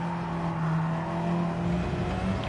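Group 4 Mazda 3 race car in Gran Turismo 7 at Watkins Glen, its engine droning steadily at a held pitch with a harmonic hum, loud and continuous throughout without talk.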